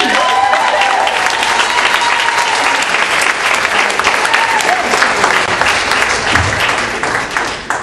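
A comedy club audience applauds and cheers for a comedian taking the stage in dense, steady, loud clapping. Whoops and crowd voices mix in throughout, and the applause thins slightly at the end.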